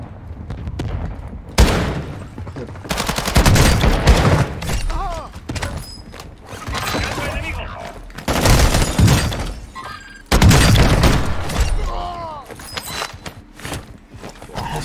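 Shotgun fire in the Warzone 2 battle royale game: several loud, sharp blasts at irregular intervals, with game noise and in-game radio voices between shots.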